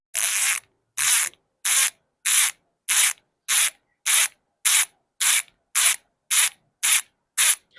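Weapon Enduro bicycle hub freewheel ratcheting with sticky grease: about thirteen evenly spaced bursts of soft, hissy clicking, each roughly half a second long, close and fairly muted, with no talking.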